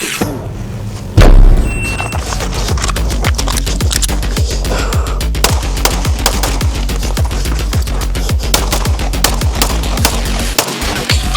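Rapid gunfire from a shooting video game, with a dense, loud run of sharp shots that keep firing steadily for several seconds after a brief loud burst near the start.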